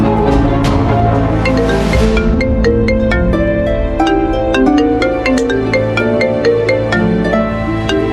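A mobile phone ringtone plays loudly and steadily throughout as a bright, repeating electronic melody, with no talking over it.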